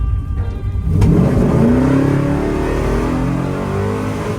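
A 1968 Chevrolet Biscayne with 71k original miles accelerates on the road, its engine note rising strongly and steadily as it pulls away, loud and close, with no talking.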